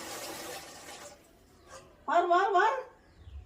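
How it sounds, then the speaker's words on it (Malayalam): Water splashes and pours down for about a second, then quiets; a short, loud voiced cry follows moments later. "മാറാ നിന്റെ നേരത്തെ വെള്ളം വീഴും."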